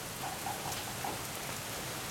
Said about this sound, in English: The sky's clouded over and it's just raining.